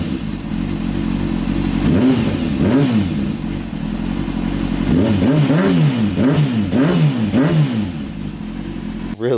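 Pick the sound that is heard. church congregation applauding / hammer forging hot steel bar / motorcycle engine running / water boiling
motorcycle engine running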